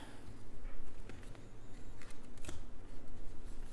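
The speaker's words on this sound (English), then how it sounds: "Better start shuffling" A deck of Magic: The Gathering cards is shuffled by hand, with rapid riffling and crisp flicks of card stock in uneven bursts, close and fairly loud with no talking.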